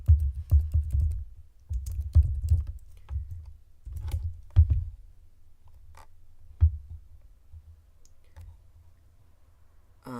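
Keystrokes clatter on a computer keyboard in quick bursts, then slow to a few scattered taps toward the end, close and fairly soft with no talking.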